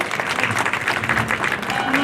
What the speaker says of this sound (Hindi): एक बार इसी के साथ जोरदार तालियां हो जाए।